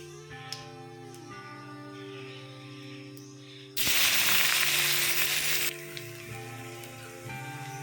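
Chopped onions tipped into hot oil with whole cumin and bay leaves give a sudden loud, close sizzle lasting about two seconds, then settle back under a quieter steady tonal background.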